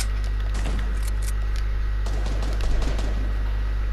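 Heavy AK rifle fire in a shooter video game crackles in rapid bursts of gunshots over a constant low droning hum, close and fairly loud.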